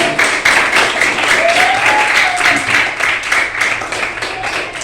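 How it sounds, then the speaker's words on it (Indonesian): A classroom of students claps together in a brisk, continuous burst of applause at close range, with faint voices under the clapping. "tepuk tangan untuk kita semua"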